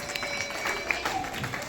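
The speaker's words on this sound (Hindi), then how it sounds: "चलिए ताली बजते रहना चाहिए।" An audience at a school farewell ceremony claps, producing a steady wash of applause at a moderate distance with a few sharper individual claps. It lasts only briefly.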